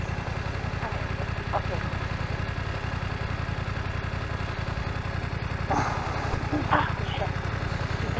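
BMW F900R parallel-twin motorcycle idling nearby with an even, rapid low-pitched pulsing throb that holds steady throughout, while voices chat quietly over it.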